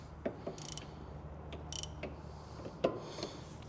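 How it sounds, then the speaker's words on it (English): A wrench works a stuck brake slide bolt nut on an abandoned Acura RSX, giving a few sparse, faint metallic clicks and knocks at irregular intervals over a quiet background. "And we got a wrench on the nut."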